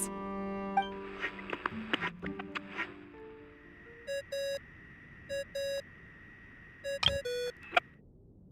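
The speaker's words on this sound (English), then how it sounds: "I really hate that ringing tone." A ringing tone from the Genshin Impact video game plays in short repeated electronic pulses, in pairs, after a few soft clicks and tones. It rises clearly over a quiet background with no talk.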